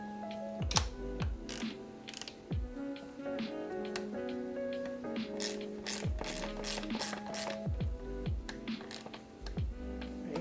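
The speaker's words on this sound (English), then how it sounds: "So I'm going to go ahead and tighten up the base bolts now" Base bolts on a OneUp bike chain guide are tightened with a ratchet, giving close, repeated clicking and gear-like whirring strokes in a steady mechanical rhythm.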